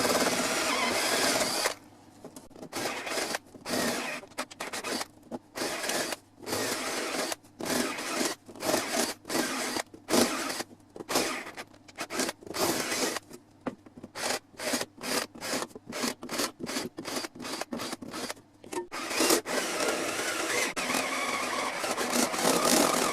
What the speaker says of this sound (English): Save your nice cone drill bit, which I did not earlier, and then just drill them out to 12